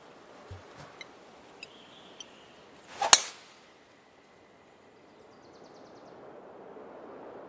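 A golf club strikes a ball on a course with wind blowing, one sharp loud crack followed by a brief fading whoosh, with a few faint ticks before it and quiet outdoor air after.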